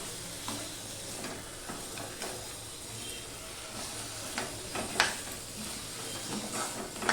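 Two fried fish heads sizzle in a pan with cooked spice paste and peas while a utensil stirs and breaks them up, a steady close frying hiss with scattered scraping and knocking strokes, no talking.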